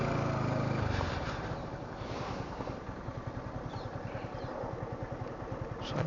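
Motorcycle engine idling and putting down to a stop near a temple, a steady close chugging pulse with light clatter and no talk.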